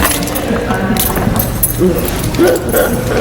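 Keys jangle and clink in a handful during a small community council meeting, a loose metallic rattling that comes and goes under steady conversation and room noise.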